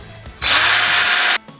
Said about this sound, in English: Turns out I had the drill on the wrong setting the whole time